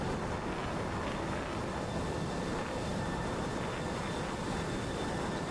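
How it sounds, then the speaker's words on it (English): An F-16 fighter jet on its takeoff roll: a dense, continuous broadband roar that stays steady and loud throughout, with no speech. "The first of the F-16s for ACR"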